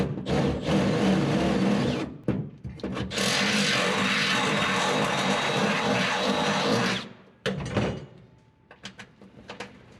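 A drill bores a 1/2 inch hole through a square-body truck steering column, a loud sustained grinding whine for several seconds, broken by brief pauses and short restarts near the end.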